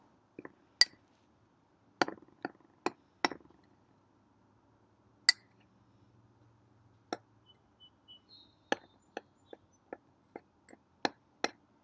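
Dry puffy paint ingredients are mixed in a bowl with a utensil, giving sparse sharp clinks and taps against the bowl, irregular and close, with quiet gaps between them.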